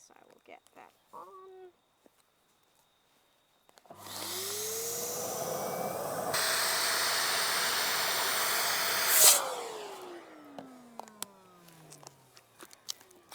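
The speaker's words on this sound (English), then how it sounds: "you're going to suck the air out" A vacuum draws the air out of a storage bag packed with chicken forage, a loud steady suction roar for several seconds that rises in pitch, then winds down with a falling whine, with brief talk before and after.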